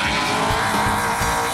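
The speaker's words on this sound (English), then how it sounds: "As the car accelerates, the rear end wants to rotate back and pulls the bar." A Super Late Model Mustang race car accelerates hard, its engine a loud, raspy roar mixed with tire noise, heard close and continuous for the whole short stretch.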